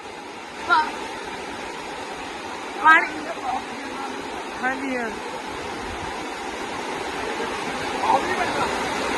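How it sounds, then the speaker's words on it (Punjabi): A strong wind storm roars over paddy and sugarcane farmland, a steady loud rushing noise throughout, while people talk close by. "ਹਵਾ ਦੇਖ ਲੋ ਹਵਾ ਦੇਖ ਲੋ ਇਹਦਾ ਤੂਫਾਨ ਆ ਗਿਆ"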